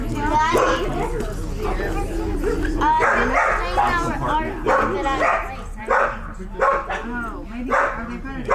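Siberian husky dogs bark, yip and whine in a neighborhood, a chorus of repeated howly barks at mid distance running steadily under people talking nearby.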